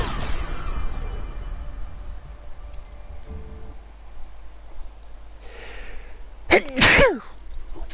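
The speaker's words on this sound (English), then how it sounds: "But when you gotta sneeze, you gotta sneeze." A single loud, close sneeze bursts out near the end after a stretch of faint background noise from the video game Injustice 2, with a brief breathy intake just before it.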